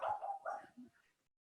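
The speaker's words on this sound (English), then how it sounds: "I hear your dog going off." A dog barks a few times in quick succession, fairly close but not loud, the yaps trailing off into quiet.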